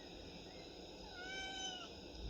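A single cat gives one soft, drawn-out meow midway through, faint against steady background hiss.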